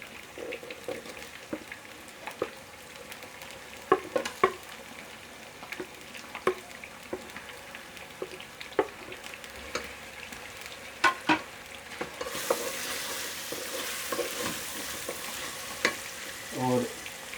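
Browned onions and tomatoes for chana chicken frying in a pan: a steady soft sizzle with regular scraping and clinking of a spoon stirring, louder hissing toward the end.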